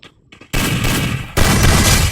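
Two loud shotgun blasts from the Free Fire mobile game, the first after a near-silent start and the second about a second later, each a sharp broadband burst that rings on without pause.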